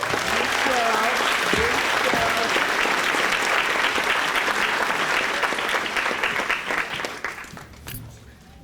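Loud, dense applause from a graduation ceremony audience, sustained for several seconds before tapering off near the end, with faint voices mixed into the crowd.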